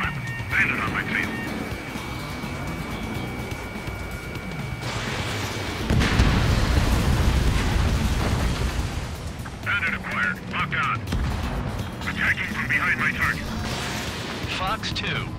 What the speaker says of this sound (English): This is Spare 11, launching missile.